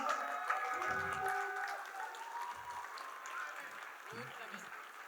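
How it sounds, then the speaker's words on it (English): Applause at a sports awards ceremony sounds as a crowd claps under a voice talking over a loudspeaker, the clapping softer and fading as the speech continues. "I want you to give him a big round of applause"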